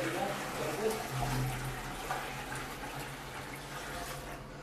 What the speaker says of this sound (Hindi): देखिए दोबारा पानी यहाँ पे डाल दिया मैं, 10 से ज़्यादा ही पानी डाला।